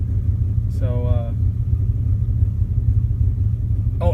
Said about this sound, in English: oh, and it's got a misfire